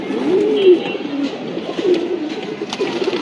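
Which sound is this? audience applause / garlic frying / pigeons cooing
pigeons cooing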